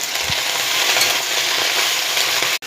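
Bottle gourd leaves sizzle steadily in hot oil in a pan after a pinch of salt, with a brief stir near the start and a sharp scrape near the end; no one talks.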